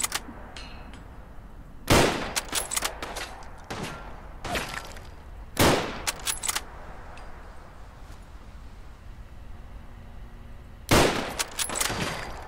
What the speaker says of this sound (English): I know where they are now, just keep shooting.